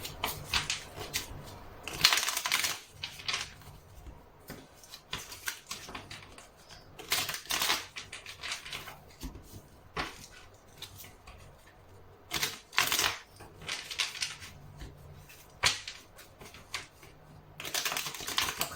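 Oracle cards being shuffled by hand, with repeated crisp riffling bursts and soft shuffling between them, close and fairly quiet, and no talking.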